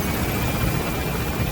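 Helicopter in Metal Gear Solid V: The Phantom Pain, a steady loud rotor and engine drone filling the scene without pause, close and continuous, no speech.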